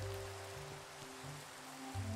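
Steady rain falling in Minecraft at night, a soft continuous patter of drops under a low sustained musical tone, with no talking.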